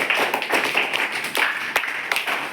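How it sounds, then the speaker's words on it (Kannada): Schoolchildren in a ninth-grade classroom clap to welcome two classmates, giving a short burst of uneven hand claps with sharp individual slaps, moderately close and not very loud. "ಒಂದು ಚಪ್ಪಾಳೆಯನ್ನು ಮೂಲಕ ಇವರಿಗೆ ಸ್ವಾಗತಿಸಿ"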